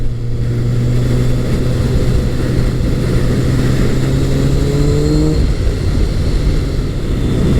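A Honda CBR1100XX Blackbird motorcycle from 2003 with updated fuel injection runs steadily, its engine drone loud and continuous with a slight pitch rise partway through before settling, and no voices are heard.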